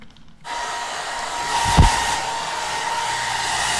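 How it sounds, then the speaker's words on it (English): A hair dryer switches on and blows steadily at close range, drying water slime, with a constant airy whoosh and a brief bump partway through. "you will need a hairdryer"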